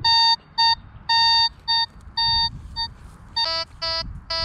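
A Nexus MKII metal detector sounds a string of electronic tones, short and longer beeps in an uneven rhythm, ending with a higher, harsher broken signal over low rumble.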